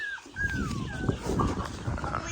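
A dog kept to guard a rice field whimpers and whines in a few thin, rising and falling cries at close range, with soft rustling noise beneath.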